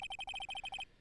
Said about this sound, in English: I heard a phone ringing just now.